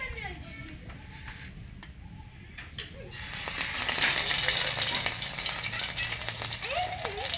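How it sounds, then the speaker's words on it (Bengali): Flower stalks fry in a pan, starting as a quiet low hiss with a few clinks, then swelling abruptly into a louder, dense, close sizzle that holds to the end. "এখন আমি এই যে ফুলের গোড়াগুলো ভেজে নেব।"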